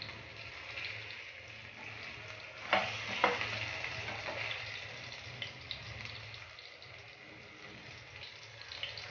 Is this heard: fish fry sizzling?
yes